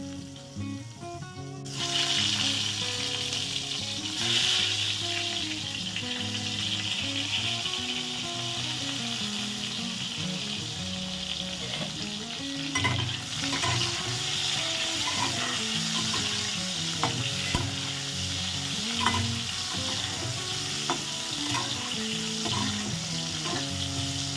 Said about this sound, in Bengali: চলুন পটলগুলো তাহলে এবার ভেজে নিই আমি।